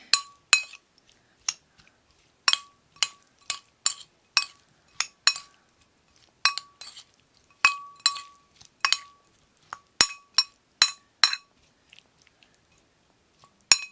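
Spoon or utensil clinking against a bowl while poke is mixed with scallions, a string of sharp, close taps in irregular bursts with short pauses between them.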